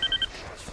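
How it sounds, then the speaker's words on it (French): A mobile phone rings inside the Nancy Drew video game with a quick run of three short electronic beeps, then falls quiet. "Oh non, j'ai oublié d'éteindre mon portable."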